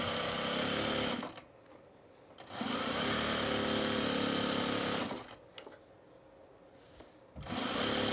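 A home sewing machine runs in three bursts of steady, loud stitching, about a second, then two and a half seconds, then a brief restart, with quiet pauses between while a baby bag is sewn.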